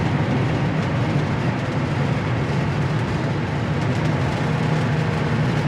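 Steady, loud exhaust rumble from a cold 1966 Impala convertible on the move, an unbroken low drone mixed with road noise, with no one talking.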